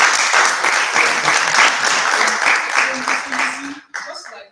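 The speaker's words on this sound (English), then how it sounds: "please give yourself a round of applause" Audience applause at a talk, loud dense clapping from a crowd that holds steady, then tapers off and breaks up near the end.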